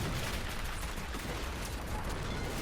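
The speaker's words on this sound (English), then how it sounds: "Deadly fire hitting a lot of troops" Continuous dense gunfire from a Civil War battle in a video game, a heavy unbroken roar of massed musket volleys and blasts without clear gaps, loud and close.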